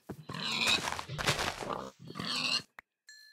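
Pigs grunting in Minecraft Hardcore, several loud, close oinks and snorty grunts in short bursts separated by brief gaps, followed by a faint high game tone at the end.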